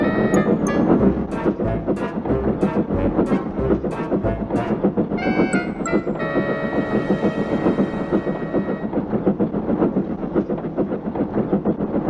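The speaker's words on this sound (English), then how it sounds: "Limited rushed by with a growl and a roar" A train rumbles past with a continuous roar, a few sharp metallic clanks early on and a rising whine toward the middle.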